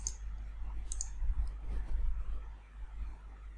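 A computer mouse clicks to send an email, a couple of faint, quick clicks near the start over a steady low hum, with no talking.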